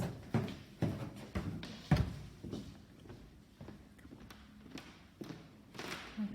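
Footsteps descend the stairs inside a town hall as a series of close, irregular thuds and taps about half a second apart, fading to softer steps, with no talking.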